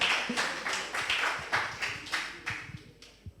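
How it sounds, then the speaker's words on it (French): Congregation at a church service applauding, steady rhythmic clapping in unison at a moderate distance, tapering off near the end. "Oui, vous pouvez applaudir."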